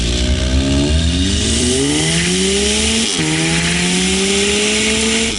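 A loud Audi S3 engine and exhaust rev and drop through gears, with rising and falling engine tones, a brief break at a shift and a continuous harsh exhaust roar close by.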